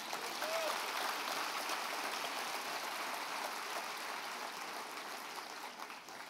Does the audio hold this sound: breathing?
no